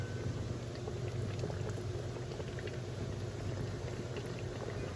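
Mutton white biryani bubbles in an uncovered pot, a steady close simmering and boiling hiss with soft popping throughout.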